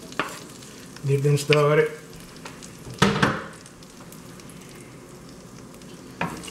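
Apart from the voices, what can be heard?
onions and shrimp frying in a pan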